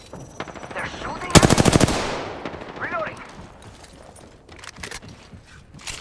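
Automatic weapon fire in the video game Apex Legends: a loud, rapid burst of about a dozen shots, followed by fainter scattered gunfire and game effects, with voice chat intermittently present.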